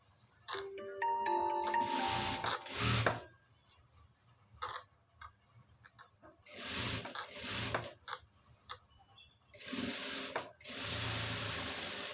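A sewing machine stitches a garment sleeve in several loud, close bursts of rapid mechanical chatter separated by short pauses, with faint clicks and handling noise between runs.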